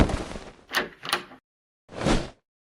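A door being shut indoors: a couple of quick knocking thuds and rattles, then after a short pause a single firmer closing thump, close by, with no talking.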